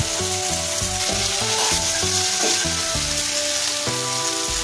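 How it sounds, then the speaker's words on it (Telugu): Boiled noodles stirred into a hot pan of sizzling egg masala for spicy Maggi, a loud continuous fry hiss with rhythmic scraping strokes of the spatula throughout, close up and without talk. "తర్వాత ఉడికించి పక్కన పెట్టుకున్న నూడిల్స్ వేసి కలుపుకోవాలి"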